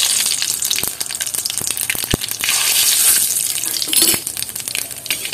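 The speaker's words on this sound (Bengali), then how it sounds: "এখন এর মধ্যে দুটো শুকনো লঙ্কা ফোড়ন দিয়ে দিচ্ছি, কালো জিরা ফোড়ন" Two dried red chilies and nigella seeds hit hot oil in a wok, giving a loud, close, continuous crackling sizzle with sharp pops and spatters scattered throughout.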